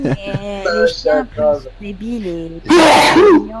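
A single sharp sneeze bursts out loudly and close at the end, following casual French conversation between people.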